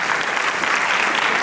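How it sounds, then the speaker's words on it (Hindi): An audience applauds after a stage play, with steady, dense clapping from many hands throughout the short stretch and no voices over it. "इनके लिए एक बार जोरदार ताली बजाइए।"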